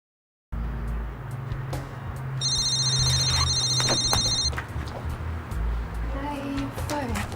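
Telephone ringing in a filmed drama scene: a bright electronic ring lasting about two seconds mid-clip over a busy background of room noise and low hum, with voices around it.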